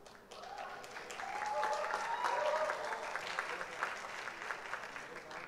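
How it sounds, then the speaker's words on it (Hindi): A TV talent show audience breaks into applause for a contestant from Amritsar. The clapping swells and then holds as a moderate, fairly distant wash, with a voice and some tonal sound over it. "तो एक बार जोरदार तालियां हो जाए हमारे हुनरबाज नंद के लिए"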